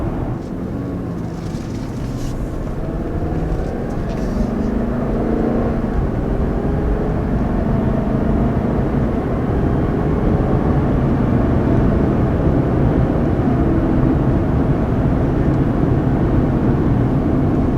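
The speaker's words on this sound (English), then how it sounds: "refreshing to have just that pure raw V8 engine noise" Toyota Land Cruiser Heritage Edition with a 5.7-liter V8 pulling up a hill, a continuous loud engine drone that builds gradually, heard from inside the vehicle with no talk over it.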